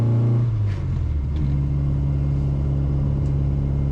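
A classic Mini's engine drones steadily as the car climbs a hill slowly under load on its first drive after a two-year restoration, a loud, continuous low rumble with a pitch shift early on and no talking.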